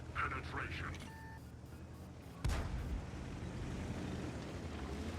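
A single heavy tank cannon shot in World of Tanks, one sharp booming blast midway through, set against a low engine rumble and faint game sounds, with a voice talking over it.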